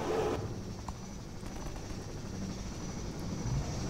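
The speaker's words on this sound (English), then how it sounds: "There's a helicopter outside my room." A helicopter flies outside a room, a low steady rotor rumble that holds evenly for the full four seconds, moderately loud and distant-sounding, with no talk over it.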